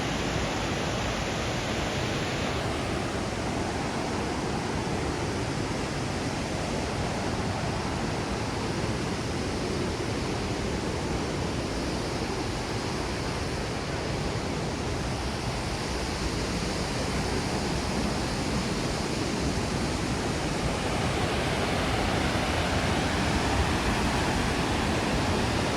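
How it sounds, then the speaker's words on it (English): Big waterfall at Burney Falls rushing in a steady, dense roar that stays constant for the whole stretch, close and loud with no voices. "big falls are over there. You can hear it, but you can't really see it that well."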